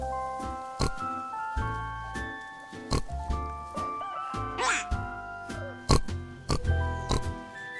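A voice imitates a pig's oinks in a string of short grunting bursts, with brief pauses and animal-like squeals between them.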